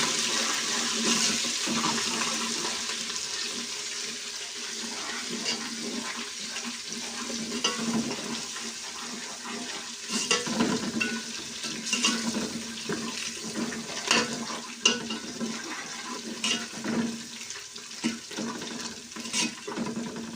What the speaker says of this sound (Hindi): लहसुन अदरक का पेस्ट डाल देंगे।